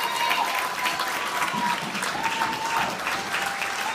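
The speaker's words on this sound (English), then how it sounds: "please give your undivided attention and applause to Ms." An audience claps steadily and fairly loudly for an honoree at a community buy-black event, a continuous wash of applause with a faint voice or tone underneath.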